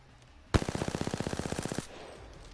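A burst of rapid automatic gunfire in the video game Apex Legends, with about twenty evenly spaced shots in a sharp, loud volley lasting just over a second and then cutting off, with no voices.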